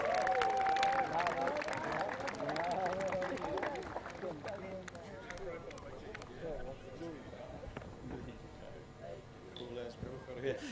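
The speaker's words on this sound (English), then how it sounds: "Give her a massive round of applause." Crowd applause at a hockey tournament's women's gold medal presentation, broad clapping and cheering that starts strong and tails off slowly, with an announcer's voice and a whistle-like tone near the start.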